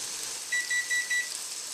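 A kitchen timer gives four short, evenly spaced beeps, faint but clear over a soft steady hiss as fish fries in a cast iron skillet.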